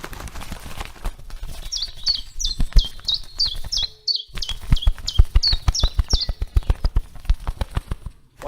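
A bird gives a run of bright, quick chirps in repeated pairs, fairly close, over a steady rhythmic clopping beat that pauses briefly midway.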